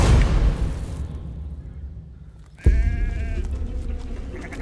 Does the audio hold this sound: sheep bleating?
yes